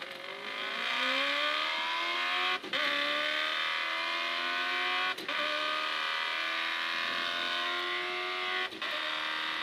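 Ford Ranger rally car racing through a desert stage of the Morocco Desert Challenge, its engine loud and close, revving steadily with pitch climbing through the gears and brief dips at three shifts.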